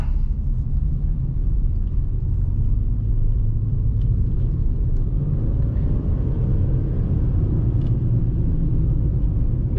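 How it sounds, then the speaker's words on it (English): A 2007 Toyota Highlander hybrid is floored in snow, its engine roaring as a loud, steady low rumble with wheels spinning, holding constant for the whole stretch with no talk. "There we spun, but I had to floor it."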